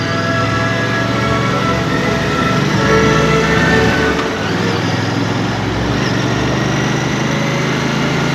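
A Royal Enfield Bear motorcycle engine drones steadily and loudly throughout a test ride, its hum mixed with rushing wind noise and no talking.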